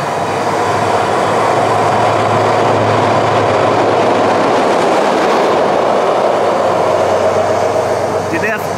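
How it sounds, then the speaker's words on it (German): A train rolling past beneath a railway drawbridge, a loud, continuous roar and rumble of wheels and cars that fills the whole stretch at close range. "Boah, jetzt fährt schon wieder ein Zug hier rum."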